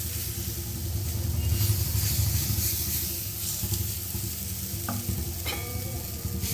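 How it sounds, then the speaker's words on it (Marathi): Coriander thalipeeth batter spread on a hot oiled griddle sizzles and crackles steadily and close up, with a few faint clinks, and no talking. "आता पीठ घालून घेऊया तव्यावर"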